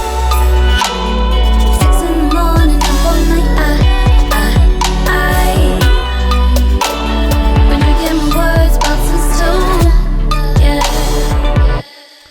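Electric guitar mix after processing in Ableton 10, dense sustained guitar chords over regular punchy drum hits, louder and fuller, playing steadily without any voices before cutting off at the end.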